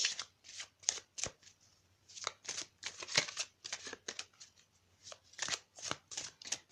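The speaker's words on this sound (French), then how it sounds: "on va prendre une carte des maîtres ascensionnés" Oracle cards being shuffled by hand, a run of crisp riffling bursts and soft flicks in an irregular rhythm, close and clear over near silence.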